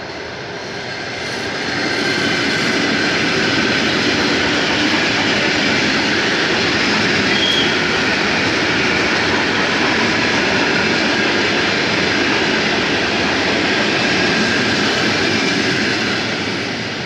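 A Saint Petersburg metro train pulls into Ozerki station, its broad rumbling roar building within two seconds and then holding steady and loud for the rest of the clip, with no talk over it.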